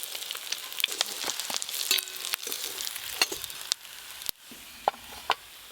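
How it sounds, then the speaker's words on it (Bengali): Fish frying in oil in a pan, giving a close, continuous crackling sizzle dotted with sharp pops and a few utensil taps, thinning out toward the end. "মাছ ভাজা হয়ে গেল"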